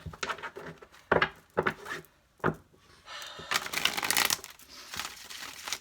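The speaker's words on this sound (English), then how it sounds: "Okay, last shuffle." Tarot cards being shuffled up close, a series of quick papery riffles and taps, ending in a longer burst of rapid flutter.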